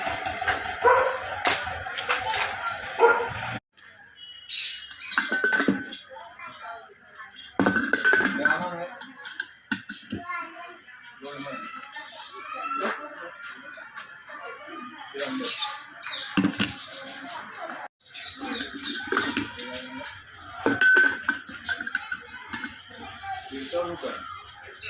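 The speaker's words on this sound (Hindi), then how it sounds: "हमारे को हथौड़ी की मदद से उसका जो लेवल होता है प्रेशर कुकर का वो सही करना पड़ता है" A hammer strikes a dented aluminium pressure cooker body in sharp metallic bursts of repeated knocks, separated by short pauses, with someone talking in between.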